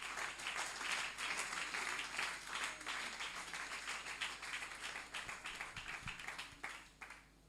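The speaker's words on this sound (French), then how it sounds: "Si tu es avec moi, acclame le Seigneur." A church congregation at a youth gathering applauding, a lively wash of many hands clapping heard from some distance, fading near the end with a few scattered claps.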